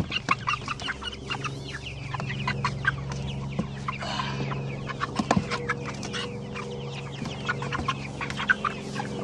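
Chickens on an outdoor pasture keep up a busy mix of overlapping clucks and short calls, some close and some farther off, over a low steady background hum.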